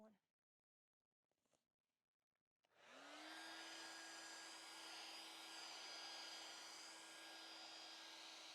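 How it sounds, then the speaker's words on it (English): After a few soft handling noises, a blow dryer switches on and runs with a loud, steady high-pitched whir. "All right, let's get that blow dryer going."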